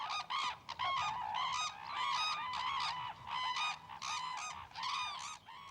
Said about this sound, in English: Their true name is the red-crowned crane